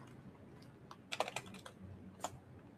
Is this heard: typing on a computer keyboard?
yes